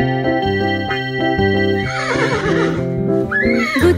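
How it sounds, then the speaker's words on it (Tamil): A cartoon-style horse neigh cuts in as a sound effect within a bright Tamil children's song, with a steady plinking melody and bouncy rhythm underneath. "ஏய் குதிரைக்குட்டி போ, ஏய் குதிரைக்குட்டி போ"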